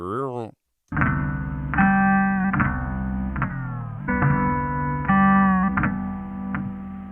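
A sustained synth music loop whose pitch gently bends and glides in places, giving the chords a subtle wavering movement; loud and continuous with no talking.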